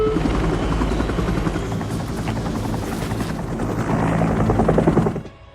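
A helicopter on a rescue mission flies close and loud, its rotor chopping in a fast steady thud with a rough engine whine, then cutting off abruptly at the end.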